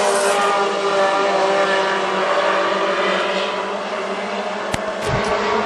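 WISSOTA Mod Four race cars racing on a speedway at Granite City, a loud, continuous roar of several engines droning together, close and steady, with a brief sharp sound near the end.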